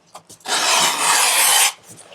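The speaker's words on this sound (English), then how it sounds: "I'm going to use just my trusty wooden strap cutter." A wooden strap cutter slices through leather to make 3/4-inch straps, giving one loud, steady rasping drag of just over a second, preceded by a few faint scrapes and alone without talk.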